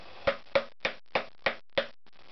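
Six sharp metallic strikes in a steady rhythm, a hammer driving a chisel into a GL500 engine block to split it, each hit ringing briefly before the next, close and clear.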